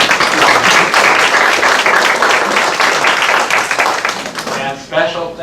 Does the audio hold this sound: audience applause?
yes